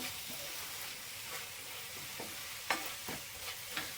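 Mango sweet filling thickening in a pan with a little cardamom powder, stirred with soft intermittent scrapes and a few sharper clicks over a steady faint sizzle.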